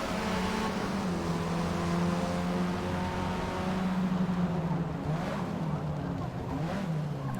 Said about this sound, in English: I was hearing like loud revving on one headphone